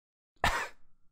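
A person clears their throat once: a sharp, close burst followed by a brief rough tail that fades within about a second, with no talking.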